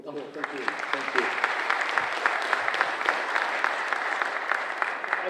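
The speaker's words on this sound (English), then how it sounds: "round of applause for Pete" An audience applauds a gadget-expert presenter at a tech expo talk, with steady dense clapping for several seconds that fills the room at moderate loudness while a voice speaks briefly at the start.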